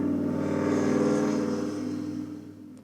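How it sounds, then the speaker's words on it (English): A car passes on a nearby road, its engine a loud, steady broadband rumble that fades out over a few seconds, with no talking. "A car."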